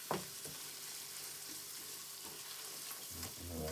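Chicken rogan josh sizzling in a pan on a plug-in hob, a continuous close frying hiss with a few soft stirring clatters.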